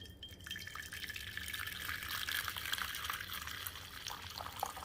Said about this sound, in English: So I'm gonna pour it back into the pot.